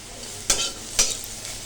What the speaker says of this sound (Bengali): কড়াইতে দিয়ে একটু নাড়াচাড়া করে তারপর তেল দেব।